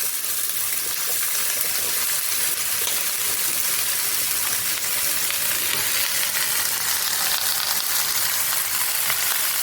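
Pumpkin greens and stalks fry with potatoes and bori in a pan, a loud, dense, continuous sizzle and crackle heard up close, steady throughout with no speech.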